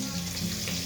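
Prawns coated with salt and turmeric sizzling in a pan, a brief, dense and even frying hiss at moderate volume.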